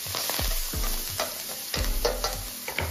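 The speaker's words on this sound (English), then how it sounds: "We're going to put some spinach in here." Spinach hits hot oil in a pan and sizzles loudly up close, with bursts of crackling and a few stirring movements.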